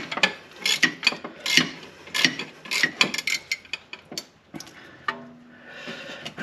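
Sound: breaking loose a bolt with an extension and 8mm Allen

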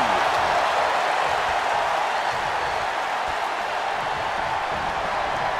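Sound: loud arena crowd cheering in WWE 2K23 video game

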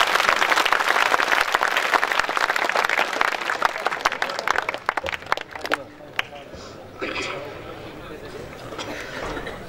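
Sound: audience clapping

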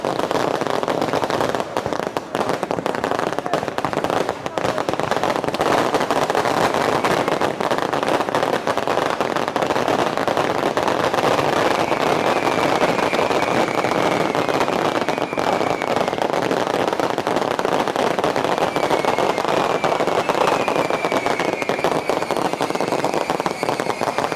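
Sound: firecrackers and fireworks being set off

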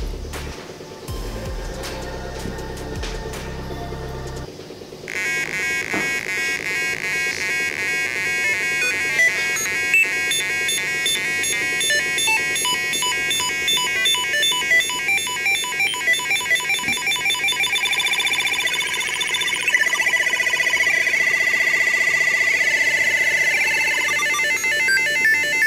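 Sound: Arduino Nano 4-step sequencer beeping through small speaker

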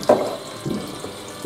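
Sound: water running for celery root in jar

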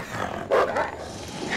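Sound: wolf growling in the video game Until Dawn

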